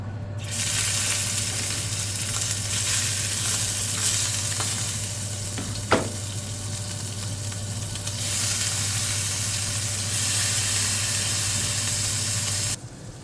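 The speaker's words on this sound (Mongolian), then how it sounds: "тэр жижиг загсаа шарж үзье" Small fish frying in a pan, a loud continuous sizzle and hiss close up with a low steady hum beneath, one brief knock near the middle, no voices.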